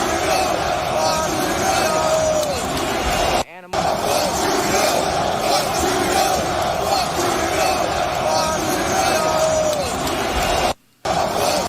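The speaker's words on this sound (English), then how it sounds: "that's a crowd at a hockey arena in Canada, and they're saying, fuck Trudeau" Large hockey arena crowd in Canada chanting in unison, a loud dense roar of voices with rhythmic shouted phrases filling the space throughout.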